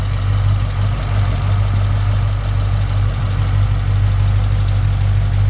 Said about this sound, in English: I just went in there and fired it up, and I wanted you to hear it run.